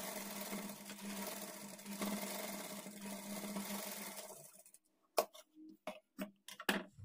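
A sewing machine stitches a blouse lining with a steady whirring run for about four and a half seconds, then stops, followed by a few short separate bursts of stitching, all close by.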